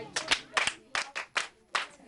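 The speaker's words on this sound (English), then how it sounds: "Clap for her." Schoolchildren in a Ghanaian classroom clap in a short rhythmic pattern to cheer a classmate's good answer, five crisp, close bursts in quick succession.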